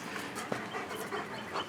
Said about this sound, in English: Dog. Oh, gotta love it.